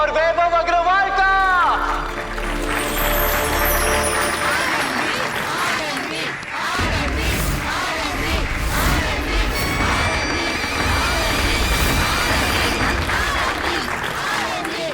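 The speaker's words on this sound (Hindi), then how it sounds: "तो जोरदार तालियों से स्वागत करिए आनंदी सिंह और वैभव अग्रवाल का" A studio audience on an Indian television show claps loudly to welcome two contestants: sustained, dense applause that follows a short musical sting and runs under music throughout.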